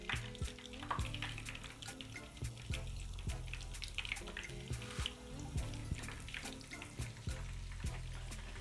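Chicken pieces frying in hot oil in a home kitchen: a continuous close sizzle with frequent sharp crackles and pops spread evenly across the clip, no talking.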